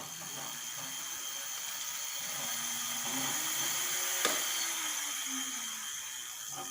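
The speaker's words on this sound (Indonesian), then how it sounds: "Saya akan putar rodanya dengan RPM rendah aja ya." A Viar Kasha electric motorbike with a repaired controller fault spins its wheel at low RPM, giving a faint mechanical whir with soft ratcheting clicks and gently rising and falling tones, plus one sharp tick midway.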